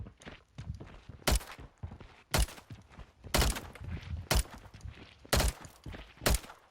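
Gunfire from a light gun in Call of Duty Warzone 3: six sharp, evenly spaced single shots roughly one second apart, loud and close over a low ambient game background, with no talking.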